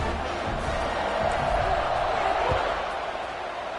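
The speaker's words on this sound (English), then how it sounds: "this crowd is buzzing after that last score" A stadium crowd at an American football game keeps up a steady, loud buzz of many voices, with a few faint thumps and bursts rising from the broad roar.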